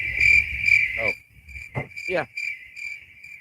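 Crickets chirp steadily in a high, even pulsing trill, heard alone at first and then under a short spoken word and other brief voices.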